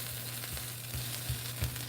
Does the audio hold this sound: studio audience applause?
no